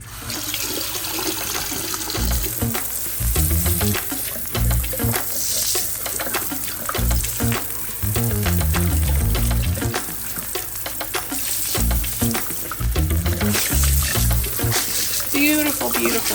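Hot water rinses over a porcelain surface during cleaning, a steady running splash with bursts of trickling and swishing, close by and continuous.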